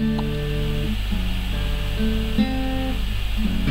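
Slow fingerpicked acoustic guitar, single notes plucked one after another over a sustained chord, under a steady background hum.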